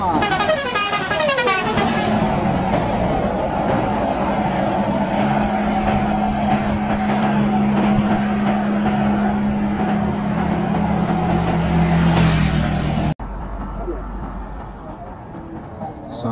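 A Fajar Riau Wisata TAM Jetbus 5 Scania bus roars past loudly with a rising and falling engine note and horn toots, then the sound cuts abruptly to quieter background hum.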